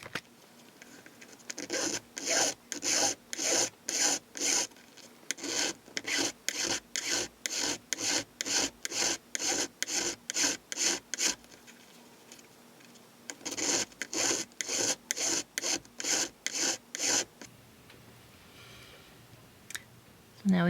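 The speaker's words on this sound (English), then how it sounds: "And then we'll file a flat surface there." Rhythmic rasping strokes of a file cutting a flat spot on metal for soldering on a bolo back mechanism, close and steady in two long runs with a short pause between.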